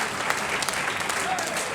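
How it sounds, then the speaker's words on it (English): Brief burst of audience clapping at a cycling club awards night, continuous and fairly close, with a voice faintly audible underneath. "I think that deserves another round of applause"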